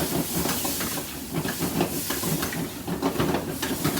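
Sauce stir-frying in a pan with salt and pepper, a dense steady hiss and sizzle with rhythmic stirring scrapes, close and constant, no talk.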